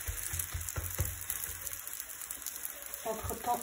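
Msemen dough cooking in a hot pan gives a steady close sizzle and crackle, with a few soft handling knocks early on and a louder shuffle near the end.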